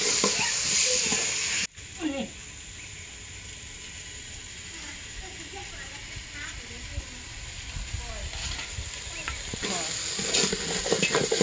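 Washed rice stir-fried in a pan for a Bengali bhog offering, with a soft steady sizzle and scraping stirs throughout, rising a little louder toward the end.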